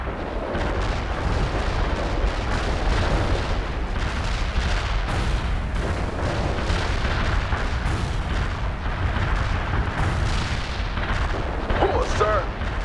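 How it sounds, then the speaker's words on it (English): An artillery barrage in World in Conflict pounds away continuously, a dense rumbling wall of overlapping explosions and booms that barely lets up, with faint radio-style chatter mixed underneath. "Artillery barrage inbound."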